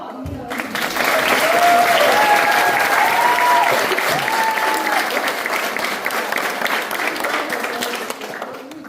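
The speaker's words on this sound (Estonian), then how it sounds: "aga me ikka teeme talle aplausi" Audience applause at the closing concert of a children's choir summer camp in a village community hall, loud sustained clapping from a full room that swells quickly and holds steady for several seconds before easing off.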